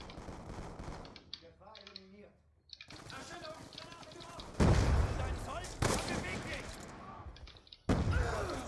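Gunfire in Black Ops 2, several sharp loud shots landing among a man's speech, with a clear close report near the middle and more bursts toward the end.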